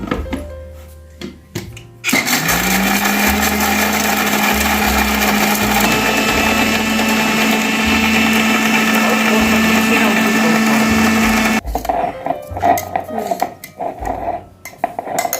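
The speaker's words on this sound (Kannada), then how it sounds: "ನಾವೀಗ ಮಿಕ್ಸಿ ಮಾಡೋಣ" A kitchen mixer grinder whirs loudly and steadily for about ten seconds as it grinds vegetables for an egg curry, starting and stopping abruptly, with clattering of utensils around it.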